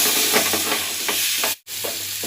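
Chopped tomatoes sizzling steadily in a hot frying pan while a spoon scrapes and stirs through them. The sound is loud and close, with a brief silent break near the end.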